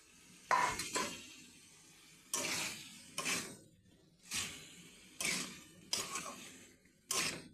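Fried potato and broccoli pieces are tipped into frying masala in a pan, bringing a series of scraping, clattering utensil strokes against the metal, about eight bursts separated by short pauses, close and fairly soft, without voices.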